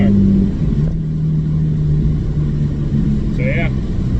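A Porsche Cayman S with a straight pipe exhaust idles and is lightly revved, giving a loud, rumbling engine drone with a rising pitch near the end; a person talks over it.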